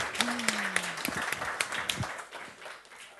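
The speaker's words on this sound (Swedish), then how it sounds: "En applåd för panelen." Applause for a panel at a seminar on the creative economy, a room of people clapping in a dense, moderately loud patter that gradually thins, with a brief voice at the start.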